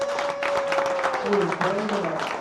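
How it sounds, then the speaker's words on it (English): An audience at an astronomy talk in Bonn claps in applause, dense and steady under a speaking voice. "let's give a round of applause for everybody."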